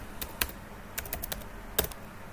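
A few sparse, crisp keystrokes tap on a computer keyboard as a command is typed into a Windows command prompt, with short pauses between clusters of keys.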